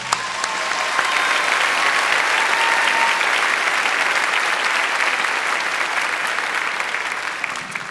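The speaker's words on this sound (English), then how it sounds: "Please join me in giving these dedicated individuals a round of applause." Sustained applause from a large graduation ceremony audience, a dense steady roar of clapping holding evenly for the full length with no talk over it.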